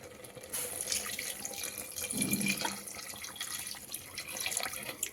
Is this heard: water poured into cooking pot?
yes